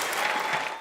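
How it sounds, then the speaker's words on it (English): A short burst of crowd applause at a political conference, dense clapping from many hands filling the room, with no speech over it. "Smiles and applause for the conference cameras."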